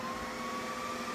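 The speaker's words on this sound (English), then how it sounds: "you'll hear the servers and everything whirring on" Servers switching on after an APC3000 UPS unit is installed give a steady, close whirring fan hum with a constant electrical whine, alone and unchanging throughout.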